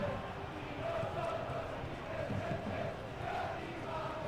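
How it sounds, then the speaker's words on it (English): Steady stadium crowd noise from the football video game Football Life 26, a continuous, moderately loud roar and murmur of fans with no break. "Can you guys even hear the crowd?"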